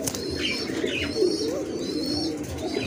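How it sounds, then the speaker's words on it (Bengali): A pair of Suachandan pigeons in a pigeon-selling setting coo softly, their low rolling calls mixed with a few faint chirps against a steady close background murmur. "খুবই সুন্দর এক জোড়া কবুতর"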